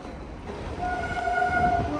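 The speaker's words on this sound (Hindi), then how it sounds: "यहाँ से देखो ट्रेन जा रही है एकदम मस्त।" A train running past near a cricket ground, with a steady rumbling roar that swells slightly and a faint sustained horn tone, heard close and loud.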